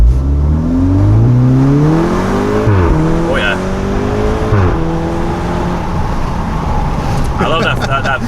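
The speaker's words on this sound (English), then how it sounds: "we're gonna show you some exhaust clips with the windows down" A Volkswagen Golf R's exhaust roars as the engine revs up through the DSG gears, with pops and burbles at each shift, heard from inside with windows down; a person briefly exclaims.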